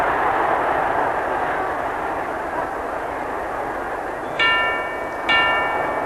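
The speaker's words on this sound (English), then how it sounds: "Bell goes to end the round" A boxing ring bell ends a round of the Louis vs Schmeling fight, two bright metallic clangs around the fifth second, clearly heard over a loud, steady crowd roar in an old recording.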